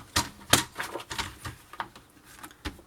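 Paper is cut for a scrapbooking folio, producing a quiet run of crisp, irregular snips and slicing clicks close by.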